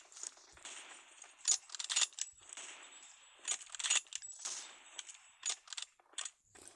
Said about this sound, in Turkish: 5 tane mermi attım.